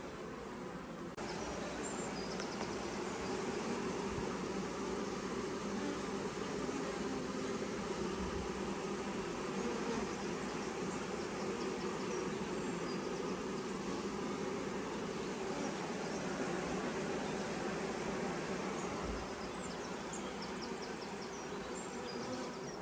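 A honey bee swarm hums steadily at the hive entrance as the bees walk their way in, a dense, even, continuous buzz that stays loud and unbroken with no voices.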